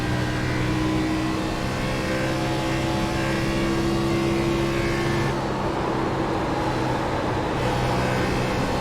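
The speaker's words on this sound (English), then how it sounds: "There's a car leaving the pit lane." A race car leaving the pit lane during a live motorsport stream, with a continuous loud engine drone and some tonal whine holding steady throughout, heard at a distance without talk.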